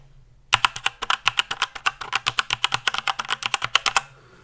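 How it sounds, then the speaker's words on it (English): Rapid, loud clacking of a mechanical keyboard with Cherry MX Blue switches, typed close to the microphone in a steady burst of crisp clicky keystrokes over about three and a half seconds, with no talking. "I bring the keyboard close to the microphone"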